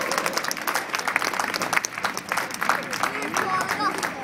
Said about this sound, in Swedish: En applåd för att han har tagits upp.